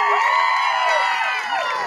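Festival crowd at a Kanbai Mata cultural program cheering and whooping loudly and continuously, with shouts rising and falling throughout and no break in the noise.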